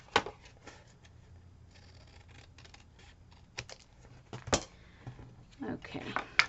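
Scissors snip an extra fabric flap while a small loaded pocket is sewn, several short crisp cuts close by, clustered toward the end among soft rustling and handling noise.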